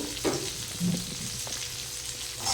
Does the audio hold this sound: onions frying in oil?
yes